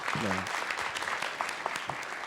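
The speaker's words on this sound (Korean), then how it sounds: "박수 한 번 더 보내주시기 바랍니다" An audience at a digital economy policy forum applauds a speaker with brief, moderately loud clapping, and a voice talks over the start before the clapping continues on its own.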